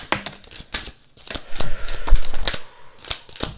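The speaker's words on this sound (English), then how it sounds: "let's go ahead and start doing a shuffle" Quick papery snaps and riffles of tarot cards being shuffled by hand, close and crisp, in irregular bursts.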